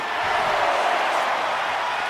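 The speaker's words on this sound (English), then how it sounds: "Cargill drawing a big reaction from the crowd." Simulated wrestling arena crowd in the WWE 2K25 video game during a Last Woman Standing match, a steady loud roar of cheering and crowd noise with no clear gaps.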